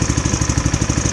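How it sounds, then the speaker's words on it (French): A lawn mower engine runs steadily just after starting, its choke being eased off, giving a loud, close, rhythmic chugging pulse with no voices. "Moralité, la tondeuse fonctionne"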